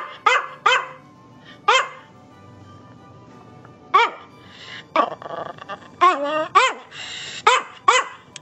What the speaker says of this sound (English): started posting videos of Gabe barking in a somewhat demanding way.